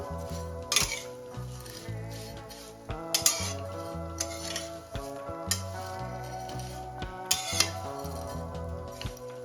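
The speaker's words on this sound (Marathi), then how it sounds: "इथे आपल्याला शेवया सतत हलवायच्या आहे म्हणजे आपले शेवया व्यवस्थित भाजल्या जातील" Vermicelli is stirred and roasted in a pan over a low flame, with a soft sizzle and periodic metallic clinks and scrapes of a spoon against the pan, under steady tonal background music.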